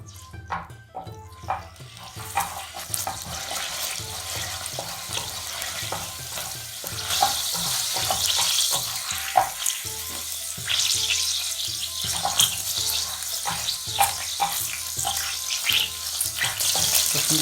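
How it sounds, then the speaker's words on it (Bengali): Chopped garlic fries in olive oil over medium heat, giving a building, crackling sizzle that grows louder and denser, with scattered pops and clinks throughout. Nobody speaks. "মিডিয়াম হিটে আমরা রসুন এবং অলিভ অয়েলটাকে ফ্রাই করব।"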